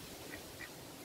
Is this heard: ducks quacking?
yes